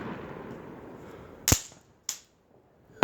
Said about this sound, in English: Wow, you seen that firework over there? They're lighting some works over there right now.